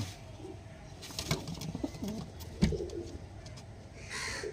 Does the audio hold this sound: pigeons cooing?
yes